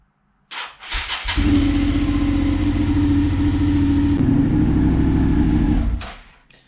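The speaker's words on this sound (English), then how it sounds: "let's check that the bike actually starts" A motorcycle engine cranks briefly, catches and settles into a loud, steady idle close by indoors, running for several seconds before cutting off.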